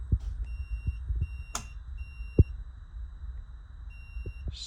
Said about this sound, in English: It's still making the beeping sound coming from the BMS.